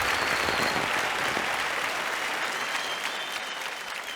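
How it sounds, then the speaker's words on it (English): Audience applause at the finale of a kids' business competition show, a dense, steady wash of clapping that holds loud and even for the full stretch with no voices on top. "Huge round of applause to Anshul"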